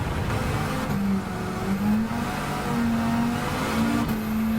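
A car engine revs and shifts through gears in Gran Turismo 7, the whine rising and dropping repeatedly as the car accelerates out of corners, loud and close with no talk.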